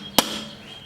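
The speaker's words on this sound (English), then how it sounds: "And take a soft mallet," A soft mallet strikes a motorcycle part during chain and sprocket work, giving a single sharp, close knock.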